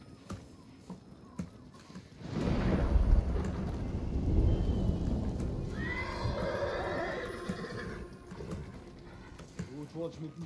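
Horses of a mounted patrol in Ghost of Tsushima arrive with loud rumbling hoofbeats and a clear neigh and whinny, building suddenly and then trailing off, with game voices briefly talking near the end.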